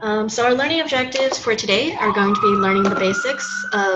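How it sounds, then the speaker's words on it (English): An emergency vehicle siren passes outside, its rising tone faint and partly buried beneath a person steadily talking through a presentation. "sorry about the siren"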